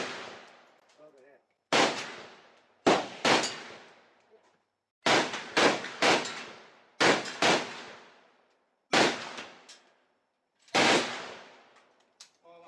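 An AK-47 rifle fires at the Cu Chi tunnels in Vietnam: seven loud, sharp shots with echoing tails, spaced irregularly a second or two apart, with brief silence between them.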